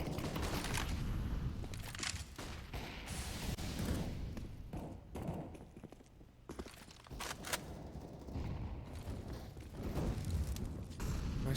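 Counter-Strike match with grenade blasts and gunfire: dense bursts of shots and heavy thuds run continuously, loud and close, with brief bright cracks scattered throughout and no voices.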